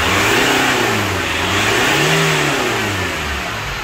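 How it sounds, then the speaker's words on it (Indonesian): A Chevrolet Captiva diesel engine, shown during a water pump replacement, revs up loudly several times from idle in close range, with rising and falling engine pitch and no talking. "nanti coba kita gas mobilnya"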